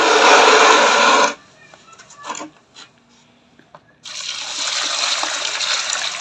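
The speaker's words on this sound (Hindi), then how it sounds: "और इसके अंदर अब हम पानी डालेंगे।" Water is poured into a tub holding iron sulfate and baking soda, a loud rushing gush that stops, leaves a few faint clinks and trickles, then starts again steadily.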